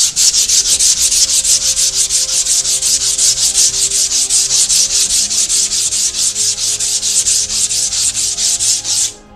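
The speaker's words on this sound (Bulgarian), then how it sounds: "Мирка 120 шкурка." Mirka 120-grit sandpaper rubs across a painted MDF bespoke wardrobe in steady, rapid back-and-forth strokes, loud and close, continuous for several seconds before stopping.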